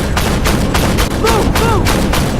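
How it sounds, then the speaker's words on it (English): Rapid bursts of 30 mm high-explosive cannon fire from an armoured vehicle in the tank game Armoured Warfare, about six sharp booming shots in a steady rhythm over a dense battle backdrop, with brief tonal chirps between rounds. "I'm actually firing like 30 mil high explosive"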